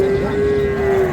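A dairy cow at a village cattle market gives one long, loud, steady moo close by, heard on its own.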